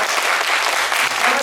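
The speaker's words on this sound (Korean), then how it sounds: "박수 한번 쳐드리세요" A church congregation at a Sunday service gives a brief, loud burst of applause: dense, even clapping from many people filling the room.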